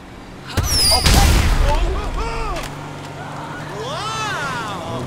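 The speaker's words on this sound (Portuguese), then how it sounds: "Fazer uma explosão aqui para ver se o FPS vai cair" Explosion in the video game GTA 5, a loud broadband boom bursting out about half a second in and rumbling for over a second, then fading into lingering game noise while a person talks.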